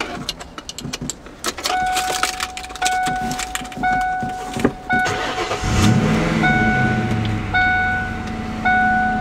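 A 1996 Ford Mustang Cobra is started: keys jangle and a warning chime rings repeatedly, then the starter cranks and the engine catches near the microphone, settling into a loud, steady idle.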